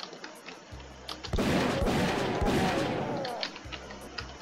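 Weapon fire in the sci-fi game Mars Undying, a loud sustained burst of rapid shots with heavy booming impacts lasting a couple of seconds before tailing off.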